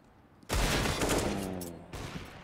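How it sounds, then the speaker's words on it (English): Counter-Strike AK rifle gunfire on the Nuke map during a Fragsters vs North match: a sudden loud burst of rapid automatic fire that sustains for about a second and a half, then a second short volley follows. "And Bubsky using that retrieved AK for something."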